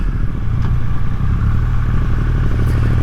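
Triumph Rocket 3 motorcycle ridden at low speed, its deep engine rumble steady and loud throughout, with a constant low throb and some wind and road noise layered on top.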